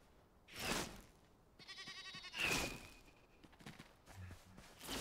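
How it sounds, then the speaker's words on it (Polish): Sheep and goats bleat in the Enshrouded video game, two loud calls a couple of seconds apart with a brief rattling sound between them and soft thumps near the end. "To owce chociaż, znacie kozy te."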